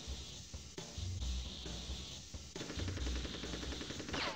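Mech gunfire in the video game Army Men: Sarge's Heroes, dense rapid bursts of synthetic automatic fire with low thuds, loud and continuous over the game's background, no speech.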